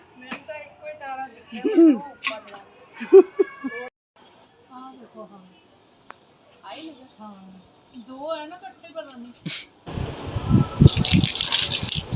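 People talk quietly during a Mahalakshmi fast ritual offering, then water gushes and splashes loudly for a couple of seconds at the end, pouring out in a burst.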